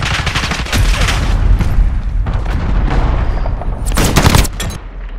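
Cruise missile strike in Call of Duty: Modern Warfare, a barrage of loud explosions and rapid gunfire bursts crackling in repeated waves, ending with a final heavy blast.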